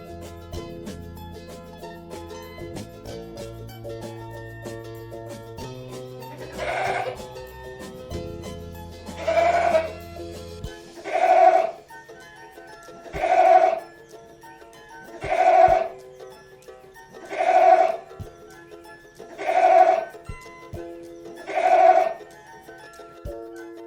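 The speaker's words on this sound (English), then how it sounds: "गोट माने बकरा" A goat bleats in a regular series of seven or eight loud, wavering cries spaced about two seconds apart, after a short stretch of children's music that fades away.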